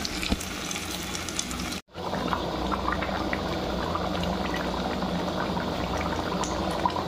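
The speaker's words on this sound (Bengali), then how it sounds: "এবারে আমি পরিমাণ মতো জল দিয়ে ঢাকা দিয়ে দেবো" Water goes into a pot of simmering Bengali-style chicken curry, and a steady bubbling, sizzling wash follows, broken by one brief dropout and otherwise continuous and moderately close.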